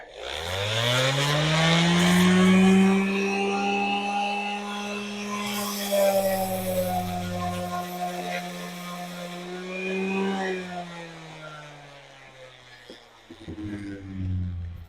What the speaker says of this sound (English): I take my orbital sander here